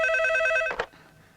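A telephone rings loudly with a trilling electronic bell, then cuts off abruptly with a short clatter as the handset seems to be picked up, leaving quiet.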